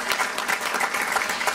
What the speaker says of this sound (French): Sous vos applaudissements, Monsieur Smaïti.